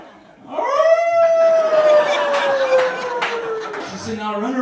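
A comedian imitates a wolf howl with their voice on a comedy stage, a long sliding wail that drifts downward before breaking off into rough vocal noise.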